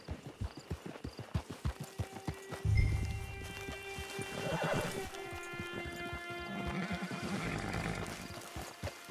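Horse hooves clip-clop at a steady trot in Red Dead Redemption 2 Online, followed by a horse's whinny and snort, with music-like tones sustained in the background.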